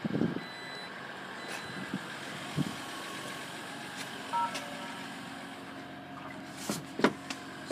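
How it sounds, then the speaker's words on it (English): A 2014 Jeep Grand Cherokee's power tailgate closes while a steady electronic warning beep pulses over a low motor hum, ending in a soft latching thud near the end, with no one talking. "So this is a power tailgate."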